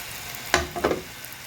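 Cubes of bread for a koshari side dish drop into hot oil and get stirred, a quiet background sizzle broken by a sharp splash-crackle and a short burst of scraping stir, close by, no talking.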